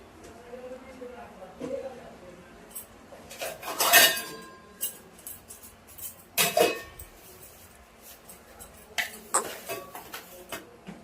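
Plates and cutlery being handled in a home kitchen: scattered clinks and clatters of dishes, with a few sharper bursts, over faint background voices.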